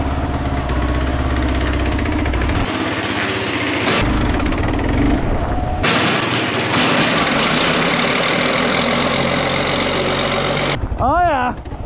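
An old Ford engine started by being pulled over on a tow rope runs loud and rough, close up, with a knocking, idling clatter that cuts in and out before it stops, while people talk over it.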